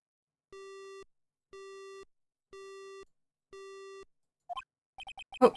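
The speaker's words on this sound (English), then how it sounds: "Detective Gumshoe, answer me." Phone busy signal in the Ace Attorney video game: four evenly spaced, steady electronic tones, clear and alone, followed by a quick run of chirpy game blips.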